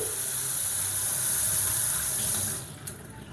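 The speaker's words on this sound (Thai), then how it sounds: "น้ำที่ผ่านเครื่องกรองจะออกมาลักษณะนี้" Filtered water runs steadily from a Toray Vino SX606V faucet-mounted filter into a sink, a close, even hiss that cuts off near the end and leaves a faint drip and a quiet room.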